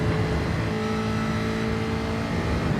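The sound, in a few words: race cars on the straight at Suzuka in a racing simulator video game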